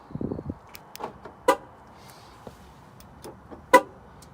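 A Mercedes car alarm sounding falsely from a faulty glass breakage sensor gives short, sharp chirps and beeps at irregular intervals, fairly quiet against a low background hum.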